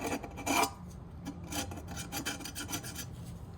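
Scraping and rasping on the rocker cover gasket surface of a 2000 Mercedes W220 S320 engine, a steady run of close, dry strokes with one louder burst early on, no talking.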